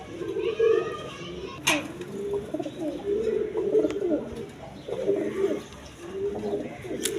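Caged breeding pigeons, including Jacobins, coo repeatedly at a farm, their low rolling calls close and overlapping in waves, with a voice talking over them and a few sharp knocks.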